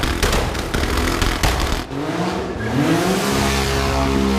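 A 1000hp Toyota A90 Supra engine revving hard with loud crackling pops from the exhaust, several sharp blips, then a falling rev and steady idle drone, close and loud.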